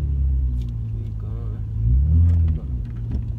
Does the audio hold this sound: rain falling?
no